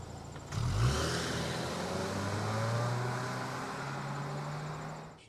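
A 2025 Subaru Forester with 180 horsepower pulls away hard from a standstill in sport mode, its engine note climbing steadily as the car accelerates, heard fairly faintly from inside.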